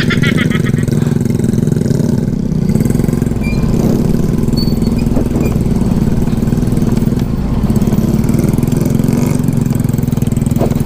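A motorcycle engine runs steadily and loudly throughout while the bike travels a rough, wet mountain road in Negros Occidental, its constant drone mixed with rattling and bumping from the uneven surface.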